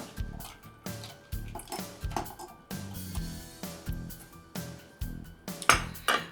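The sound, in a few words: bar spoon lightly stirring a grape cocktail in a glass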